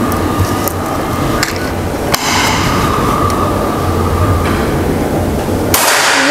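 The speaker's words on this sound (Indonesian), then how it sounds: "Kita akan melakukan tembakan selanjutnya." A sharp crack of a Predator Yumaja air rifle shot during target shooting stands out against constant loud background noise and hum, followed by a fainter impact.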